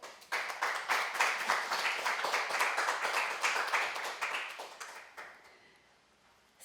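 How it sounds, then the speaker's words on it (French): Audience applause for a man honoured at a French-language community event, a steady burst of clapping from a modest crowd lasting about five seconds before fading away, with no talk over it. "ça prend une bonne main d'applaudissements, ça."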